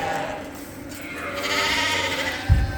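Suffolk and Dorset ewes with their lambs in a farm pen, several bleating continuously and overlapping at close range, with one louder low thump near the end.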